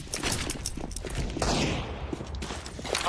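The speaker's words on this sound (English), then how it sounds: "Throwing a flashbang." Gunfire and game action in CS:GO as a flashbang grenade is thrown, a loud continuous rattle of shots and impacts filling the whole moment with no clear separate bang.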